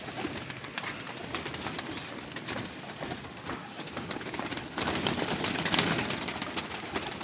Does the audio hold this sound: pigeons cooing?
yes